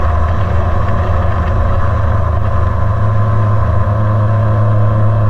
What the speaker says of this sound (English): This is a pretty typical takeoff right here